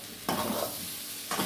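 Onions sautéing in a pan over a wood-fired stove for mutton curry, a steady close sizzle broken by two sharper bursts as the pan is stirred.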